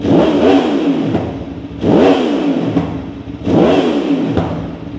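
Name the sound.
2500cc motorcycle engine revving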